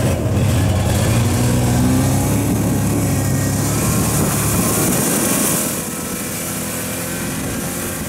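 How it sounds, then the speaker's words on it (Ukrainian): A snowmobile engine revs steadily and loudly while climbing a bumpy uphill trail on a Carpathian mountain slope, holding a continuous close drone that eases slightly toward the end, with no talking. "Піднімаючись на снігоході, я відчував кожен горб, всі нерівності траси."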